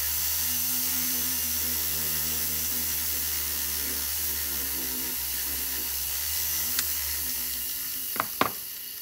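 Power honing of a carving tool with brown rouge polishing compound: a steady whirring motor with a faint scraping hiss, close and moderate in level, with a few sharp clicks near the end.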